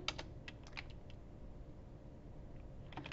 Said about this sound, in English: I'm gonna type it out.